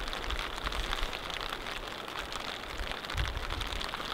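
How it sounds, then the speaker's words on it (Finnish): Rain falls on a wilderness campsite at Lake Inari, Finland, making a steady, even hiss with occasional heavier patters. No one speaks. "Eilinen nätti sää muuttui tämmöiseksi vesisateeksi vaihteeksi."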